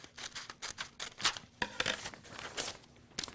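Scissors snipping down the side of a sheet of newspaper, close and fairly quiet, in a run of uneven crisp cuts and paper rustles with no voices.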